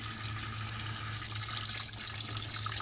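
Steady water running from the tap of a JAC gas water heater at a low flow, a continuous broadband hiss with a low hum underneath, close and even throughout with no talk.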